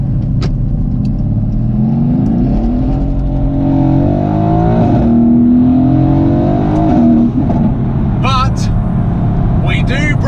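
Renntech-tuned Mercedes-AMG GT S accelerating hard with its wheels breaking traction, a loud close engine roar rising through the gears, with tire chirps near the end and a voice talking over it.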